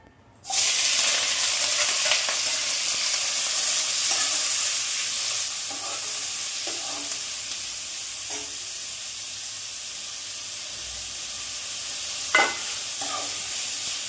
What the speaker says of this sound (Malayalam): ആ വേപ്പിലയും സവോളയും ഇഞ്ചിയും പച്ചമുളകും കൂടെ ചതച്ചും കൂടെ ഇതിലോട്ട് ഇട്ട് കൊടുക്കാം